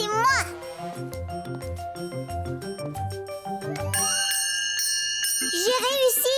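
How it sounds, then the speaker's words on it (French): A bell rings out in a children's cartoon scene, its bright ringing tones heard among music and a voice speaking. "C'est moi qui vais faire sonner la cloche."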